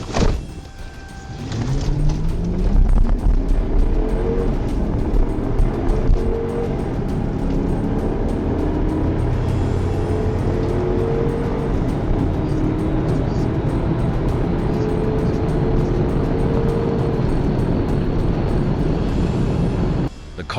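A fleeing car accelerates hard during a high-speed police pursuit, its engine roaring loudly and steadily for about twenty seconds with rising and shifting pitch and no talk.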